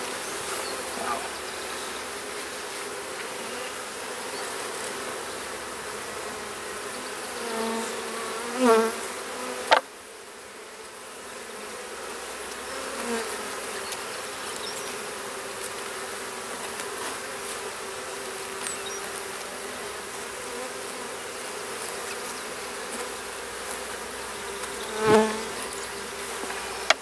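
Honey bees hum steadily around an open hive, a dense, continuous buzz close to the microphone with occasional individual bees passing louder and brief handling clicks.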